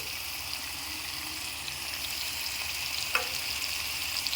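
Tamarind juice sizzles in a hot pan of frying raw banana with mustard, a steady, moderate hiss close by that carries on evenly, with no talking over it.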